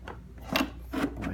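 Old heater core from a 2013 Jeep Wrangler JK sliding along the dash assembly, two short scraping rubs close up and fairly soft.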